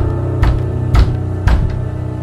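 Knocking on a door, three heavy thuds at an even pace, close and fairly loud. It comes from a Korean audio drama, with no talking over it.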